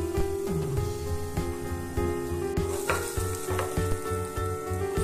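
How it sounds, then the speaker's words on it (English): Spices sizzling and frying in a pan while cooking methi cholay, with salt, turmeric, red chili powder, cumin and coriander being stirred in; a steady close crackle with occasional scrapes of stirring. "After a minute, put some salt, haldi powder and some red chili powder and jeera, dhania, and mix it well. Now let it fry for a few minutes."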